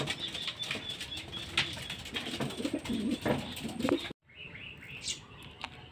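Pigeons at a loft, with soft cooing, chirps and bursts of wing flapping close by, the birdsong continuing after a brief dropout, with light background noise.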